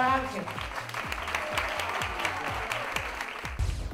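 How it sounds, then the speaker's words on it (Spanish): An audience applauds at a charity event for a national pediatrics institute, a dense, steady wash of clapping that carries on for several seconds and tails off with a voice at the end. "Un aplauso grande para Ángel"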